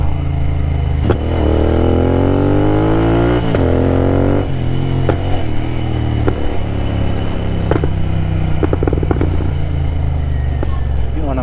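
A tuned Royal Enfield GT 650 twin-cylinder motorcycle runs loud and close, its engine note rising and falling through several revs, with sharp crackles and pops between throttle blips.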